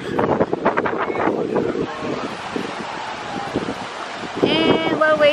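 Strong winter wind buffets the microphone in gusty bursts at an outdoor adventure golf course in Wisconsin Dells, with indistinct voices and some higher tones mixed in toward the end.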